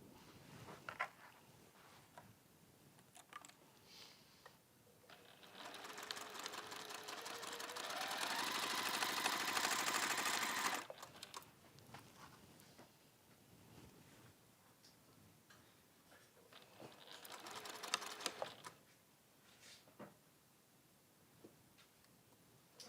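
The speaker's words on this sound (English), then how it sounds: "we're going to sew down both ways" A sewing machine stitches half-metre Ascot scarf pieces in bursts: a fast mechanical whir swells for several seconds, drops away, then returns in a shorter run, with quiet ticks and handling noises in the gaps and no talk.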